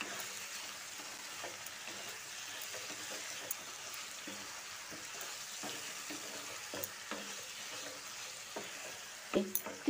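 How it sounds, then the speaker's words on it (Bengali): Chicken cooked with ground spices and turmeric in a pan, a soft, fairly quiet sizzle with light scattered ticks from stirring over ten seconds, a few louder clicks near the end. "গুঁড়ো মশলাটা দিয়ে এবার চিকেনের সঙ্গে খুব ভালো করে কষিয়ে নিচ্ছি।"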